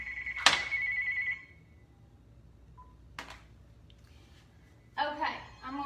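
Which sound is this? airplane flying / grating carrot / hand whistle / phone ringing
phone ringing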